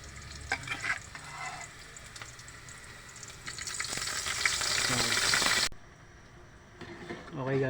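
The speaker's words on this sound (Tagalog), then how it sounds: "Lalagay na po natin tong munggo guys." Mung beans tumble into a hot cooking pot for ginisang munggo with squash flowers, setting off a loud sizzle and stir that swells, cuts off abruptly, then resumes faintly, with a person talking over the cooking.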